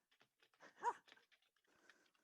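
A dog barks and whimpers faintly in the background during an online VR community meeting, with one brief louder yelp among short scattered sounds.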